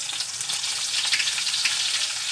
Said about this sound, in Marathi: त्याच्यामध्ये थोडंसं आपण बटर घालणार आहोत।